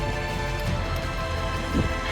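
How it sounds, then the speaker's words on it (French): Steady rain hisses across the whole stretch on a high mountain pass in the Belledonne range, a dense broadband patter with no voices, slightly louder near the end. "La pluie tombe beaucoup plus tôt que prévu"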